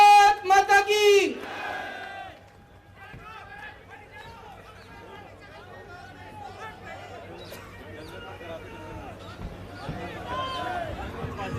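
A political rally crowd in India responds to a speaker. One loud shouted call at the start gives way to a sustained roar of cheering and chanting voices that swells toward the end.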